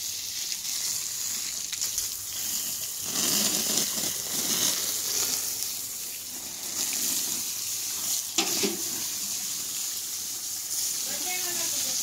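Water is poured and splashes steadily during a bath, a close, continuous hissing rush with brief louder splashes and people talking underneath.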